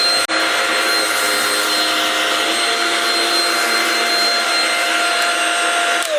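A Shark Rocket basic stick vacuum running on carpet at its carpet setting while sucking up oatmeal, a steady loud motor whine that holds throughout with a brief dip near the start.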